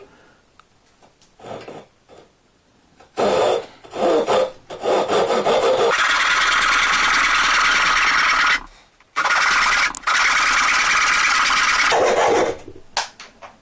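A power tool cuts through a piece of wood held in a Rali Press vise and clamps, producing loud, harsh, sustained rasping bursts close by, separated by short pauses, after a few quieter handling knocks.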